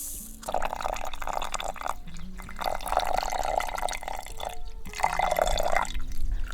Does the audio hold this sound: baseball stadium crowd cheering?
no